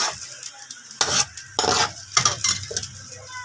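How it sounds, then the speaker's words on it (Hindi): Chopped onions dropped into hot oil in a pan while frying fried rice at home, with bursts of sizzling, crackling and utensil stirring scrapes in short uneven waves, close and loud, no speech. "हमारा ये ऑयल गर्म हो गया है। अब इसमें डालेंगे प्याज।"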